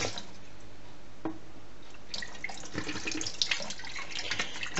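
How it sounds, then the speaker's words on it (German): Water running from a tap into a glass sprouting jar for rinsing seeds, a soft splashing and trickling stream with scattered drips, fairly quiet and close. "Spülzeit ist angesagt. Das heißt, wir machen hier wieder Wasser rein."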